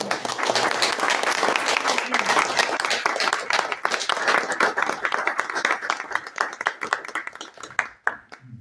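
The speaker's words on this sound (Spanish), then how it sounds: "al que les voy a pedir un fuerte aplauso para recibir" Strong applause from a crowd welcoming a director at a retreat: steady, dense clapping that gradually thins into distinct individual claps before dying out.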